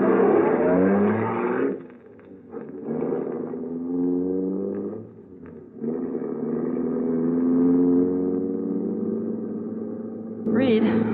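A car in a radio drama drives off with a steady, loud engine hum that rises and falls through several gear-like shifts, close and continuous, with muffled voices beneath it.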